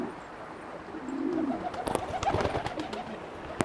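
Pigeons give a soft, close coo followed by rustling wing flutters and light taps, with no talking over the birds.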